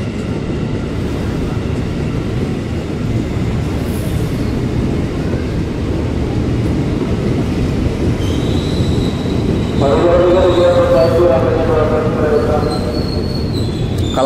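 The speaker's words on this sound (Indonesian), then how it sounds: "Ini dia JRIS 20487 komuter tujuan Bekasi ya." A KRL commuter electric train bound for Bekasi rumbles steadily and loudly up close, its wheels squealing in rising and falling tones in the later part, with no talk over it.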